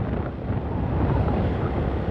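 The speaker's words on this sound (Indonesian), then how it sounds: "Anginnya sangat besar sekali ini." Strong wind buffets the microphone steadily and loudly for the full stretch, a continuous low roaring rumble while riding with a helmet through the Takokak area of Cianjur, with no talking.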